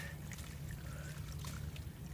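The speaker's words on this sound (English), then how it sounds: "there's a little bit of water coming out" Water trickles steadily from an old grey water valve on an RV as it is pulled out, a soft continuous dribble over low background rumble.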